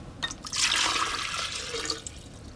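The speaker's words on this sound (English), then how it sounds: "He took a glass jar and poured in some water." Water is poured into a glass jar, a bright splashing rush that swells quickly and then tapers over a couple of seconds, alone and fairly close.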